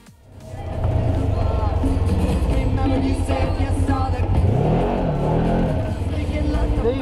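A Polaris off-road vehicle on low tyre pressures takes a corner too fast, its engine revving hard and loud throughout with a rising and falling pitch as it slides, close to the recording.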